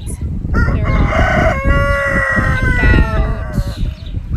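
A young rooster crows loudly and close by in one long drawn-out call, over a busy background of clucking hens in a flock of about 73 birds.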